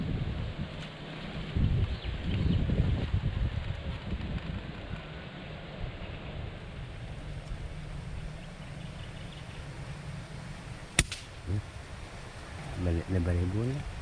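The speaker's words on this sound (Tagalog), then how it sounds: "Yan na, sobrang hangin." Strong wind buffets the microphone outdoors during a wild dove hunt, with a steady, rough roar, gusting harder early on; a sharp click and faint voices break through near the end.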